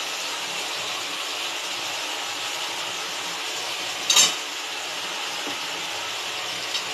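Spice paste with onions, green chillies, turmeric and chilli powder frying in hot oil for a fish curry, a steady, close, loud sizzling hiss throughout, with one brief sharp crackle near the end.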